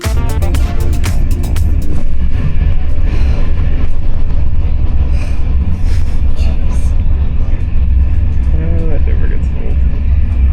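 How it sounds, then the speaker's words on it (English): A loud, steady rumble of a train pulling into a station in the Netherlands, with metallic rattling and a brief screech of brakes, voices faintly mixed in. "Train just arrived."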